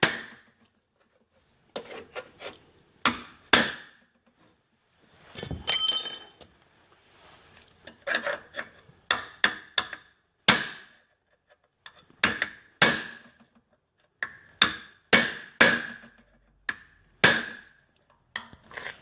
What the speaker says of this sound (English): So I think if we get the cold chisel in that sort of angle